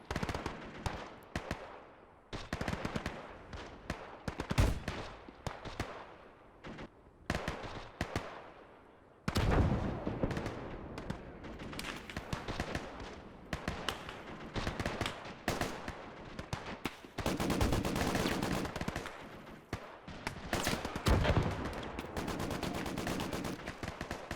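Machine-gun bursts and heavy gunfire in a Gates of Hell battle set during a 1946 Soviet invasion of Alaska, loud and sustained with staccato volleys, brief lulls and dense stretches of overlapping shots and blasts.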